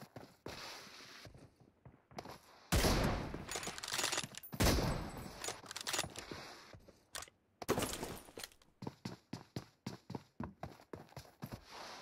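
Rapid bursts of video game gunfire crackle in dense, loud volleys with short gaps between them, mixed with quicker repeated shots toward the end.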